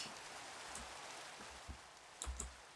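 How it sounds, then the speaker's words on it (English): Steady, soft rainfall in the video game Realm of the Mad God forms a continuous hiss, with a few faint clicks scattered on top, including a small cluster near the end. "every single time I get on the realm, it's raining"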